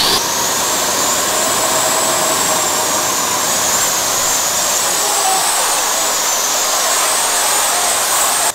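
A homemade drone built as a water-droplet-shaped probe flies with a loud, steady, high-pitched whine of spinning propellers and motors, running near and continuous throughout with no talk.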